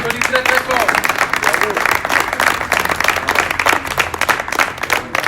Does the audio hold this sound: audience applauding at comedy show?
yes